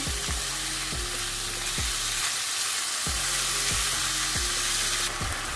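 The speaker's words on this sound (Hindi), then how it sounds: "चिकन को अच्छे से मिक्स करते हैं और चिकन को हम थोड़ा सा ब्राउन करेंगे" Chicken frying and browning in a pan, a continuous loud sizzle with repeated rhythmic scraping strokes of stirring, close and uninterrupted, with no talk over it.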